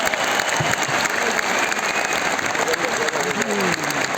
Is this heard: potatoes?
no